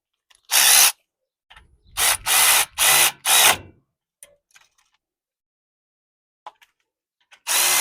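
Small brake pad bolts are tightened with a power tool in short, loud, close bursts: one burst, a brief pause, then four quick bursts in a row, followed by faint clicks and another burst at the end.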